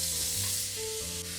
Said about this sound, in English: I'm going to start by rinsing my coffee filter